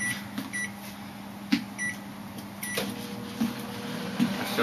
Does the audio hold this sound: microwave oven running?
yes